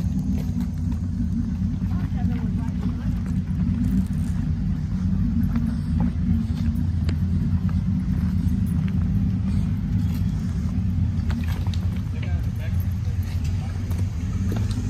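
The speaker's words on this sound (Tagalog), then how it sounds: "You got a big engine in that." An off-road vehicle with a big engine climbs uphill at a campsite trail, its low, steady rumble continuous and close throughout, with a faint voice or two in the background.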